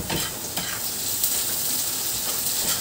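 Onion sautés in a little oil in a pan for chicken pastel, a close, continuous sizzle with quick scraping stirs.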